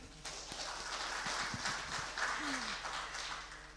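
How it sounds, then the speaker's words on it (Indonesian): Applause at the closing of a protocol training course held by a law ministry, a soft steady patter of clapping from a gathered crowd, with a faint voice and a few taps mixed in. "Mohon tepuk tangan"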